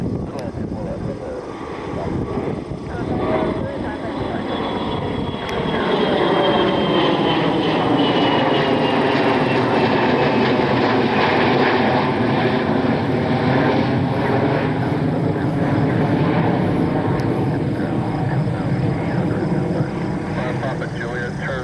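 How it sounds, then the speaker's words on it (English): A private jet takes off at an airport, its engine roar building loud and steady with a swelling rumble that holds for the whole stretch, close by and continuous. "We got a private jet taking off here."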